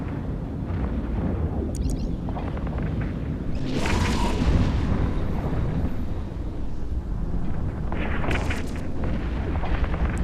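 A Hurricane ship is destroyed in the space game EVE Echoes during a PvP fight, a deep rumbling explosion that swells midway over dense, continuous combat noise and booms, with no talking.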